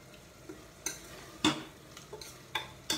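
Spoon scraping and tapping as cabbage and chana dal curry is dished out of a pressure cooker, a few sharp clinks and scrapes spaced irregularly over a quiet background.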